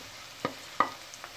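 Spices are stirred into lightly browned onions frying in a pan for a mixed vegetable dish: a faint sizzle under two or three quick, distinct spoon clinks and scrapes.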